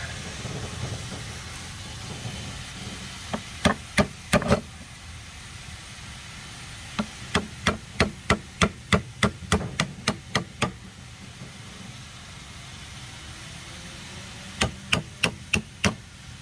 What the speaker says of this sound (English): Take the chisel here. See if we can start peeling.